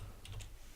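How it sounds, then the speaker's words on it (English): Keys tapped on a computer keyboard while entering a time into a spreadsheet, a short burst of a few quick clicks over a steady low hum, close and fairly quiet. "if I was to type in the time"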